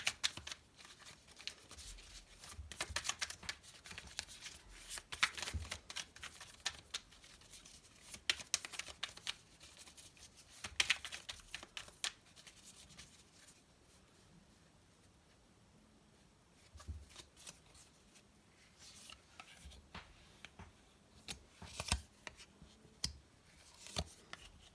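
Soft card handling for a French tarot-style reading: faint shuffling, riffling and cards being laid down in scattered bursts, close and quiet with pauses in between.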